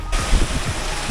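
A waterfall in a lush green hillside area near Delhi, water pouring down from above, makes a steady, dense broadband rush that fills the whole clip at close range without pause or voices.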